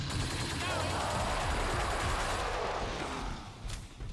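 Continuous rapid gunfire from the Helios rifle in the video game Killing Floor 2, a dense, steady barrage that holds at even loudness and thins out toward the end, with a voice talking over it.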